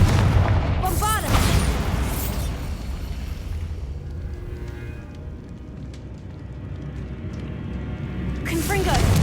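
Deep booming spell blasts, Bombarda and Confringo, in the catacombs of the video game Hogwarts Legacy, heavy rumbling bursts at the start and end with a long resonant decay between, under speech.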